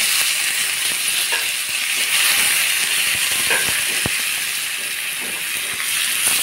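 Curry leaves hit hot oil in a tempering for bottle gourd dal with asafoetida, giving a steady, close, bright sizzle and hiss throughout, with a few faint crackles and pops.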